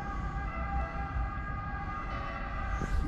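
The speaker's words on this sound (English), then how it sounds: "The local police seem to like driving around with their sirens on." Police car sirens wailing through a French town, a steady wavering tone over low rumbling traffic noise, fairly distant and continuous throughout.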